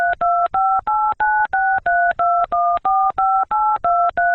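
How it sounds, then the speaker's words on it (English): Phone keypad pressed repeatedly with random numbers, a rapid even sequence of about a dozen loud, crisp dual-tone beeps separated by short gaps, heard alone. "pressing random numbers on his phone and then hanging up"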